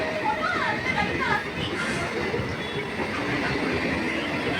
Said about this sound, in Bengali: এই দেখুন আরেকটা ট্রেন আসছে